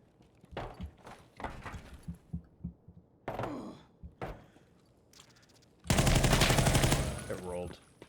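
RPD machine gun in a video game, heard as scattered sharp shots and thumps followed by a loud, sustained automatic burst of about two seconds near the end, with a faint voice between shots.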